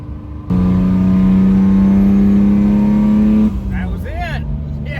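Ford Thunderbird Super Coupe pulling hard on supercharger boost above 10 pounds, a loud steady engine drone with whine for a few seconds, then easing off as a voice comes in over the fading motor.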